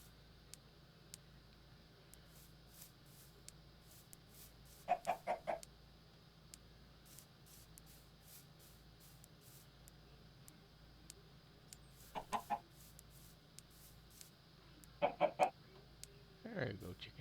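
Farm chickens cluck in short clustered bursts every few seconds, fairly close, against a quiet background hum with faint ticking.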